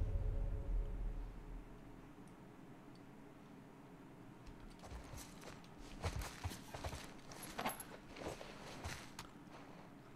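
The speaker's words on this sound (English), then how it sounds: "I hear footsteps." Footsteps in the video game The Last of Us, after a quiet stretch: a series of faint, irregular steps and scuffs over a low ambient hum.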